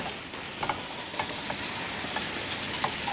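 Crepe batter frying in a pan, a steady soft sizzle with a few small crackles and light scraping, close up with no talking.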